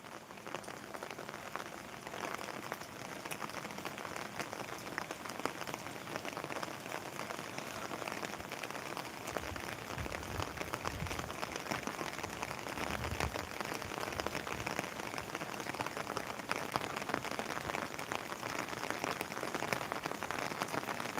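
Steady rain falls on surfaces in Velchala village, Karimnagar district, as a dense, continuous patter that lasts throughout and grows slightly heavier midway, with no voices.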